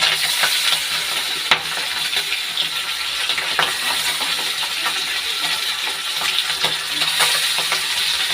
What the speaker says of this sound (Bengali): এই যে দেখো, এখন মাছটা ভেজে নিচ্ছি আমি।